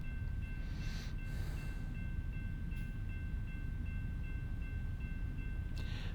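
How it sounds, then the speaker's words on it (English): A long mixed freight train passes in American Truck Simulator, a steady low rumble of wagons rolling on rails with a faint tonal hum, sustained and fairly close, with no talk. "But pretty cool train with a lot of mix of different cars and stuff like that."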